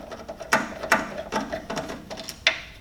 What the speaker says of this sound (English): use your 8mm and take off the 3 screws that hold the fan onto